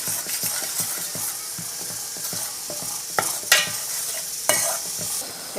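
A kadle manoli sukka mixture is stirred in a pan, a spoon scraping and clacking in a quick steady rhythm over a low sizzle, close and loud with a few sharper knocks.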